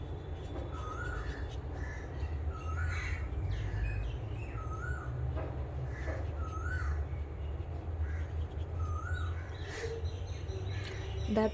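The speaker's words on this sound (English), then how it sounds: "That bird sound is so sweet." A bird calls repeatedly outdoors, sharp harsh cries recurring every second or so over a steady bed of rumbling background noise.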